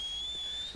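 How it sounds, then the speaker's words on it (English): A thin steady whistle in Red Dead Redemption 2, calling a horse from the stable while playing as John, one long slightly rising tone lasting most of a second over a quiet game background. "So just keep whistling, keep trying to do it."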